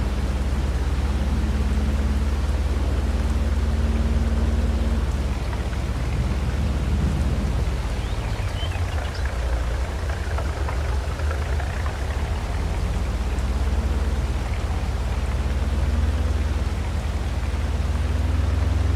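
Steady rain in the video game Farming Simulator 22 hisses continuously with a low rumbling undertone and a faint tonal hum, dense and even throughout, with no voices.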